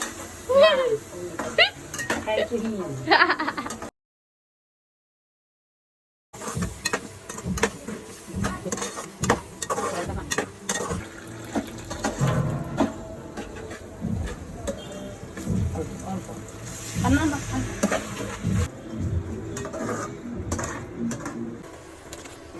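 Home cooking in a kitchen as grandparents prepare a fish dish: metal utensils scrape and clatter against pots, with stirring and faint sizzling throughout and people talking nearby, after a brief silent gap.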